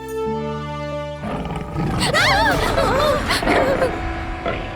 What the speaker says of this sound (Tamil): புலியோட உருமல் சத்தம் ரொம்ப அதிகமா இருக்கு.